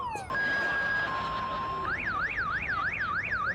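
A car alarm blares nearby, first with steady electronic tones, then switching to a rapid rising-and-falling warble that repeats loudly.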